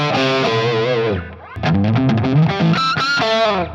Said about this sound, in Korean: 크런치한 플렉스 계열 소리 좀 되게 좋아하거든요